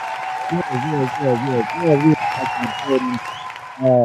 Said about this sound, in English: I'm gonna give myself a round of applause